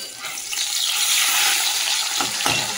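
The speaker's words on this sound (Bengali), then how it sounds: "আর এদিকে তো মাছ ভাজা হচ্ছে।" Fish fries in oil with a dense, loud, continuous sizzle up close, a couple of light knocks near the end.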